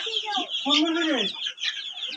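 Six-week-old Fayoumi chicks cluck and chatter close by in a continuous, busy stream of short, rising calls, with no talk over them.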